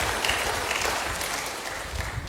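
Church congregation gives a sustained burst of applause to God during a sermon, steady dense clapping filling the room throughout.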